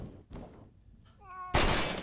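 A cat meows in the video game The Stalin Subway 2, a short pitched meow with a bending tone, preceded by soft thuds and followed by a loud burst of noise.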